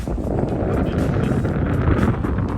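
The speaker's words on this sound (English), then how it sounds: "It's windy out here like crazy." Strong wind blasts the microphone outdoors, a loud steady roar with rumbling gusts throughout, and someone talks under it.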